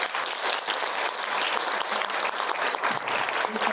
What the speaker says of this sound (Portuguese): pedir uma salva de palmas para as duas